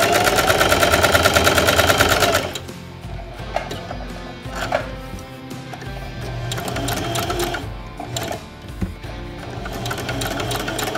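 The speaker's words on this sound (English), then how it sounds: "straight stitch all the way around this" A sewing machine straight-stitching a curved seam on a newborn baby sleeper, running loud and close, pausing, then resuming in shorter uneven bursts with clicks between.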